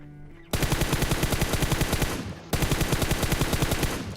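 Automatic gunfire in the battle royale game PUBG: two long, loud bursts of rapid, evenly spaced shots, the second following a brief pause, close and dense with no talking.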